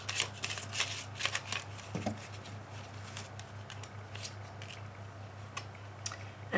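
Oracle cards shuffled by hand nearby, soft papery riffling and flicking in quick bursts over a low hum, quieter toward the end, with no voice.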